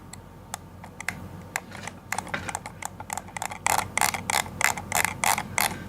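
Crisp clicks from a computer mouse fitted with replacement switches, starting sparse and building into a fast, steady run of sharp, close presses with no talking.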